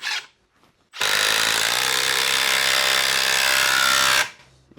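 A hammer drill on hammer setting drives a Tapcon screw through wood into concrete, a loud, steady grinding roar lasting about three seconds before stopping abruptly.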